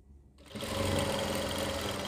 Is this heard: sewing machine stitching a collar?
yes